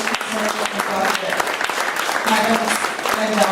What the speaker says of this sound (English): Let's have another round of applause for Dr. Dickinson